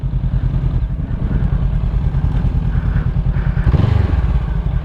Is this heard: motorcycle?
yes